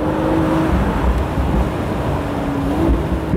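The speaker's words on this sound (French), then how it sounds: "Le bruit de l'admission, on entend tout là." A steady, loud roar from an Aston Martin V12 Speedster's engine and intake heard from inside the car while driving, a continuous deep drone with slight rises in pitch.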